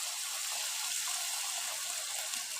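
Water pours steadily into a cooking pot while Egyptian green fava bean koshari is being cooked, a continuous close hiss and splash with no break and no talking.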